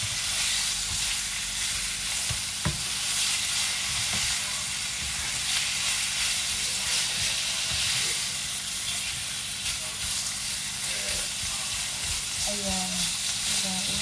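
Beef and mixed vegetables stir-fry in a pan with a loud, constant sizzle and hiss, broken by an occasional sharp clatter, while people talk briefly over the cooking.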